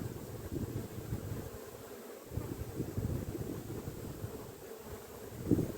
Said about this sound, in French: je rajoute un cadre d'abeilles